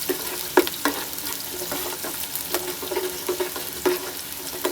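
Shahi cumin frying in hot oil in a pot for shahi aloo pulao, a steady sizzle with scattered crackles and a few sharper pops, stirred occasionally, close and moderately loud with no talk.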